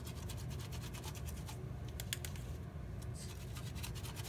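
A make-up brush is rubbed back and forth in cleaning product, making a steady, close, continuous wet scratching and swishing with no pauses and no voices.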